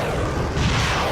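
An atomic bomb explosion roars as a dense, loud blast, a continuous wall of rumbling noise that swells slightly midway.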